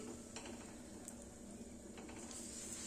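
Puri fry in very hot oil, giving a quiet, steady sizzle with a few light clinks of a utensil against the pan.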